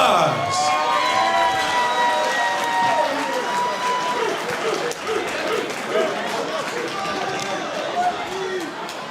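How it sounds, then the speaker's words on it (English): Fight-club event crowd in Rancho Cucamonga applauding and cheering, a dense wash of clapping with voices chattering and calling out through the whole stretch. "One more round of applause."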